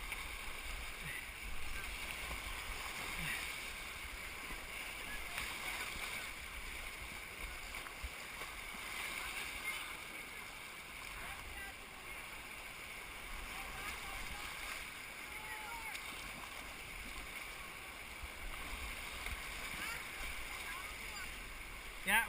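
Canoe paddled with kids through rapids on Kinuseo Creek near Tumbler Ridge, BC: steady rushing water and splashing run the whole way, with paddle strokes and occasional voices under the constant flow.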